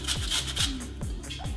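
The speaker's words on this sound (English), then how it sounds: "we're going to grate in some lovely fresh lemons" Fresh lemons rubbed against a grater over cake batter, giving a few close, rhythmic scraping strokes about half a second apart, each a short rasping sweep.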